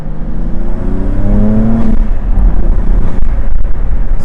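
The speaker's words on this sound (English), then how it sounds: "Still got that turbo noises." A Cadillac ATS-V with an opened-up intake revs loudly nearby, the engine note rising in pitch and then holding with a whirring turbo character throughout.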